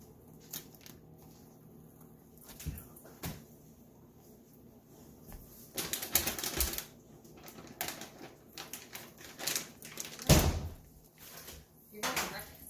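Several sharp metallic taps and knocks on a baking tray, irregular and close, with faint rustling and handling noise between them in a quiet room.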